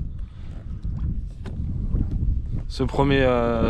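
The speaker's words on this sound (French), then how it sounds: "Le vent est très fort." Strong wind buffets a small boat drifting on open water, rumbling and gusting close against the microphone, with a brief voice rising near the end.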